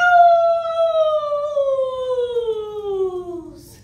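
A person imitates a wolf howl in one long, clear, voiced tone that slides slowly downward and fades toward the end, loud and close, with no other talk.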